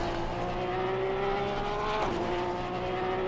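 Porsche Cup race car on track in a 2017 series race, a steady high engine note holding a constant pitch with a brief dip near the end, loud and continuous without voices.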